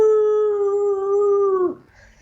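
A man imitates an old hound dog howl, holding one long, loud, steady note close to the mic before it breaks off sharply, leaving near silence.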